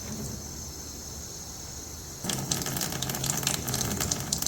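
Water running from a tap to rinse out gloves: a quiet background hiss that suddenly becomes a loud, steady gushing stream halfway through, close by, with no talking.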